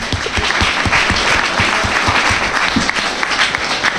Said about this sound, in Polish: Duże brawa dla niego.